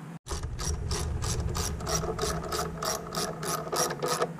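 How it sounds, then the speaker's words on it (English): A ratchet tightens the screws on a Jeep throttle body, giving a close, steady run of about a dozen evenly spaced clicks with no talking. "So I'm going to leave that centered and then tighten down those screws."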